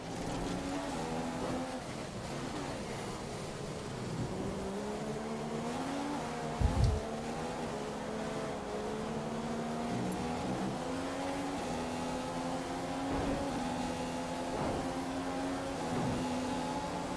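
Formula 1 race car engine at the Australian circuit in F1 2015, whining steadily at high revs through a fast lap, with rising and falling pitch as gears shift, continuous and close throughout.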